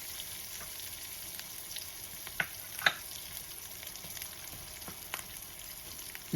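Saltfish frying in a hot pot makes a soft, steady sizzle with occasional sharper pops and stirring clicks, fairly quiet and close, with no talking.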